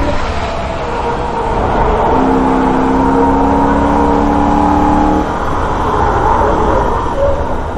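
A Holden car's engine droning steadily at high revs on a Nurburgring lap, loud and close from inside, with a held tone that lifts and then eases as the car slides out of a corner; no talk.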